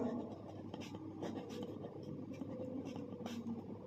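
A pen scratches steadily across paper as a maths solution for a pole's height and shadow is written out, giving continuous close scraping strokes with small taps, and no voice.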